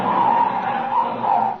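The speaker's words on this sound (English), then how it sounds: "Look at that car come up here." A radio drama sound effect of a car pulling up with skidding tires. It is a loud, sustained tire squeal lasting over a second, close and alone.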